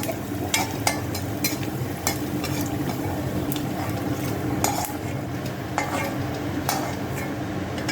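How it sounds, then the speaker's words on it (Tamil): Ingredients for a banana flower thuvayal fry in oil, a soft continuous sizzle under frequent clinks and scrapes of a metal spoon against the pan, close up, with no one speaking. "இது எண்ணெயில் பொரிச்சுக்கணும்."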